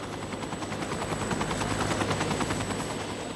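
An air ambulance helicopter makes a loud, steady rotor chop that dominates throughout, with rapid rhythmic blade thumps and no voices.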